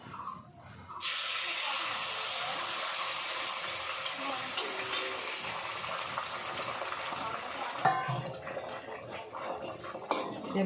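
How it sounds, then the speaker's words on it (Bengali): An egg fries in a pan with a steady, close sizzle that begins suddenly and carries on. Now and then utensils clatter against the pan, and a faint voice can be heard. "ডিমটা দিয়ে দিলাম, ডিমটা ভেজে নেব"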